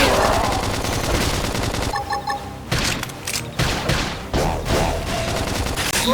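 Rapid bursts of gunfire from the Fire Carnival skill in Xenoblade Chronicles X, loud volleys with brief gaps between them and battle effects mixed in.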